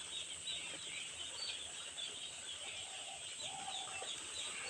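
A crowd of three-day-old poultry chicks peep continuously in thin, high chirps that overlap at a modest, even level, with no talk.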